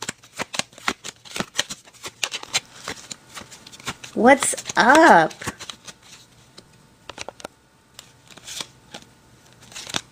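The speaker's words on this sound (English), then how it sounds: "I want to get a good shuffle in here so I can get a good card" Tarot cards are shuffled by hand in a brisk, close rhythm of quick riffling and flicking that runs throughout, with a brief voice heard partway through.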